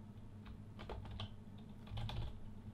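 Typing on a computer keyboard, a few irregular bursts of light key clicks, faint and close, in a quiet room.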